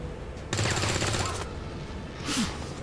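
Gunfire in the XCOM 2 strategy game, a loud rapid burst lasting about a second and then a shorter second burst, with game sounds in between and no speech.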